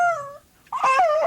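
A dog being petted whimpers in two drawn-out, high, wavering whines separated by a brief pause, close and fairly clear.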